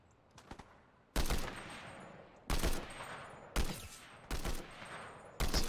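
Video game gunfire with heavy recoil comes in loud, dense bursts of rapid shots, about five sharp volleys separated by brief pauses, close and alone.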